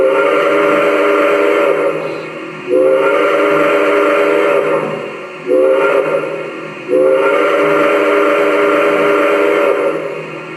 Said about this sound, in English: SXS, which is basically, this is for a automated crossing sound.